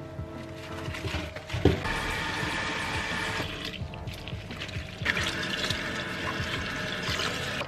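Napa cabbage being washed in water in a wide bowl, with splashing, pouring and sloshing that come in uneven bursts close by and fairly soft, without any talking.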